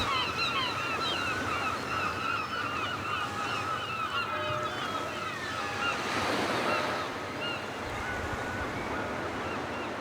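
Sea waves washing ashore at St Ives, Cornwall, a continuous rushing surf with a louder surge midway, mixed with wind and distant honking seabird calls.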